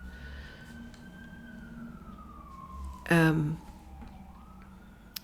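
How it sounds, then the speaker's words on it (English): An ambulance siren sounds faintly in the distance, one long wavering wail under a brief spoken word and a short burst of louder noise. "I can hear the ambulance coming."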